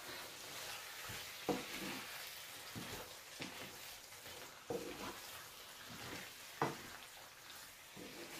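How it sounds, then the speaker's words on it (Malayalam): Chicken chukka sizzles in a pan while being stirred, a soft steady frying hiss broken by several scraping stir strokes and light clanks. "ഒന്നുകൂടെ ഇളക്കി"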